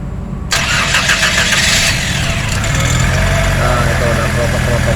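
A Nissan Serena C23 engine cranks and catches, then settles into a loud, close idle that carries a rough, uneven note with a low rumble throughout.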